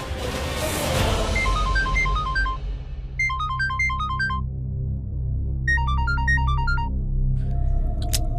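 A phone ringtone plays a melodic pattern in repeated bursts, loud and close, over a low rumbling dramatic score. It rings on without being answered and no one speaks.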